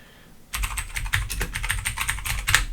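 A computer keyboard being typed on to enter a sequence name in perimetry software: a quick, dense run of close key clicks that starts abruptly after a brief quiet and carries on steadily.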